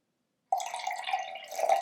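Blue-coloured water poured into a bowl, a steady close trickle starting abruptly and running without pause for over a second.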